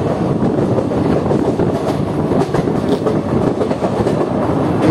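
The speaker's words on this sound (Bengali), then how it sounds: "ভালোই গতিতে আমাদের ট্রেন এখন চলছে" Kaviguru Express passenger train from Azimganj to Howrah running at speed, a steady loud rumble of wheels on rails with faint clickety-clack and wind buffeting throughout, heard from inside the coach.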